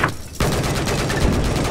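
Gunfire in the video game Battlefield 4 during a Shanghai close-quarters match, with a sharp shot followed by a dense, loud burst of rapid fire.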